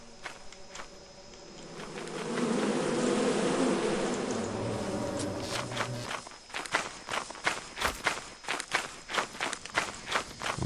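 Buzzing bees in the video game Lethal Company, a dense swelling drone under running footsteps that fades out midway, leaving rapid, close, rhythmic footfalls.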